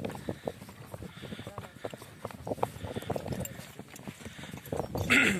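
Racing horses used in the ulak game are walked along a dirt track to cool down, their hooves making a soft, irregular clip-clop at moderate distance with faint background noise.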